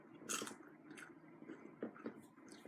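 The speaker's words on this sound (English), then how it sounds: "I hope y'all hear me over the crunching." Someone eats a crunchy snack close to the mic. Quiet, sharp bites and chewing crunches come in irregular bursts over a soft background.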